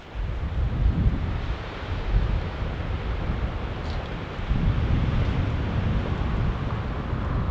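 Strong wind roars across an open golf course, a steady loud rushing and buffeting with gusts that swell and ease, heard alone with no voices.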